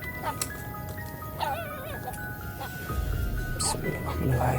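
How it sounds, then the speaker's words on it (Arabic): Dogs near a graveyard at night break out in yips and whimpering barks that rise suddenly above a steady noisy background, while people talk excitedly over them. "صوت الكلاب دي ظهر جامد مره واحده كده."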